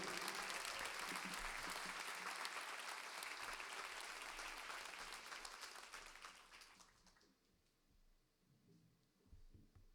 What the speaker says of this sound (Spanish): Fuerte aplauso, Ángel Molina.